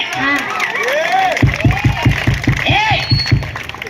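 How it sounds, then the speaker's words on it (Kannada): An audience at a bhajan orchestra performance in Gajendragad claps in a steady, even rhythm that starts partway through, set against a sustained singing voice. "ಓ ಚಪ್ಪಾಳೆ."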